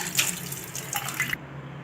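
Water runs from a kitchen tap over dishes being rinsed after washing with a homemade natural dish wash liquid, a steady close splashing that cuts off abruptly near the end, with no talking.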